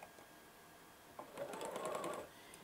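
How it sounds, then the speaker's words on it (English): A sewing machine with a quarter-inch foot runs a few stitches and back stitches on fabric: a faint tick, then a brief whirring mechanical burst of rapid stitching that rises and fades, close and quiet. "I'm going to take a few stitches and then I'm going to back stitch"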